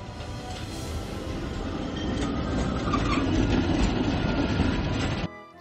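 Model railway engine shunting coaches and wagons in a yard, a steady rolling rumble with wheel clatter that holds close and fairly loud throughout before cutting off abruptly near the end.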